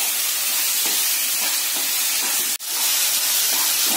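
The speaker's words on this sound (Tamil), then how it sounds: "தக்காளியை நல்லா கிளறி விட்டுக்கோங்க." Chopped tomatoes sizzle and hiss steadily in a hot pan for an egg masala, a loud broadband frying noise with a brief break as they are stirred.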